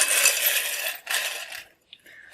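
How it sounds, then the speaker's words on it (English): Small metal charms clink and jingle together as they are pulled out, a bright rattling burst that pauses briefly, returns, then thins to a few faint final tinks. "So I will pull some charms and we'll see what initials we get."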